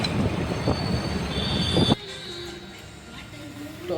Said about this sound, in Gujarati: તો આ બધું રેલવે સ્ટેશન છે.